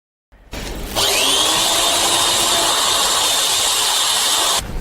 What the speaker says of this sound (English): With the help of a drill, I made a hole.